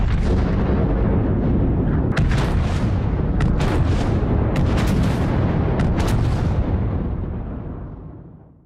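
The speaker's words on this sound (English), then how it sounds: "they stop when they hear Apex warships firing at something in the distance over a mountain" Warships fire artillery beyond a mountain range in a dramatized battle scene, a continuous heavy roar with repeated booming bursts, loud and rumbling, fading out at the end with no voices.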